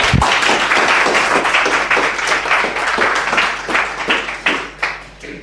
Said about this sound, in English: let's have one final round of applause for Oskar, please.